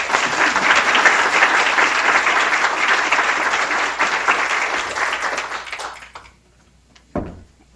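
An auditorium audience claps steadily to welcome speaker Kate O'Brien before a talk on vaccine clinical trials; dense, sustained applause fades out after about six seconds, followed by a soft thump.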